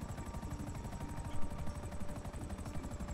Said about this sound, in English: God, now we've got the helicopter